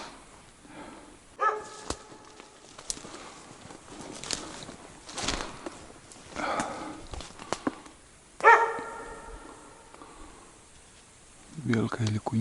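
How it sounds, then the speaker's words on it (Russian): A dog barks a few times at a distance in the taiga, with long quiet outdoor stretches between the barks. "Белка или куница, кого он там лает?"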